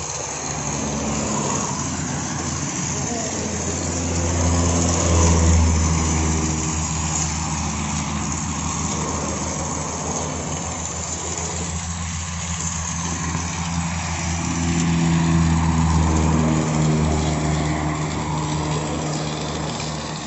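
A motorcycle engine running at close range, droning steadily for the whole stretch and swelling louder twice as the revs rise, with no voices over it.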